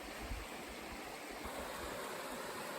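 A woodland creek gives a steady, even rush of flowing water that fills the whole stretch without pause, with no voices.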